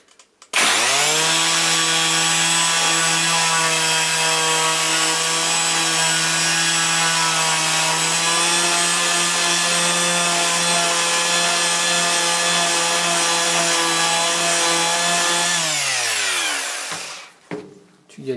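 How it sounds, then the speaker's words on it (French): A power sander grinds continuously against a 2004 Toyota Avensis sun visor, a loud, steady whine held for about fifteen seconds before it winds down and stops. "Je viens de prendre une ponceuse, c'est mieux."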